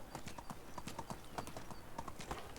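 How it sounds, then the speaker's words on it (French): Horse hooves clip-clop steadily at a walking pace in the medieval village game Medieval Dynasty, a regular rhythm of soft, close footfalls with no talking. "On va essayer de rentrer avec le cheval"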